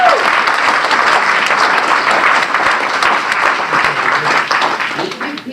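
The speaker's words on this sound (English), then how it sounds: "let's give Dan a big round of applause." At a talk on politics in Sacramento, the audience gives a speaker a hearty round of applause: dense, sustained clapping that holds steady and then thins and fades toward the end.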